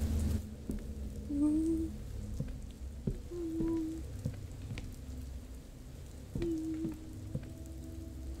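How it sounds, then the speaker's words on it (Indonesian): Steady rain falling in a dark forest in the horror game Fears to Fathom – Ironbark Lookout, a soft, even hiss lasting throughout with a few faint low game tones and thumps mixed in. "Kena air hujan."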